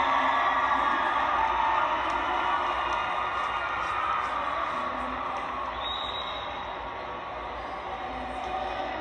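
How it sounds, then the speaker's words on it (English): Crowd noise at a netball match between Jamaica and Uganda, a steady broad roar of cheering from the stands that holds throughout, with a brief whistle-like tone partway through. "The noise you'll have heard in the background, surely cheering the comeback for Uganda"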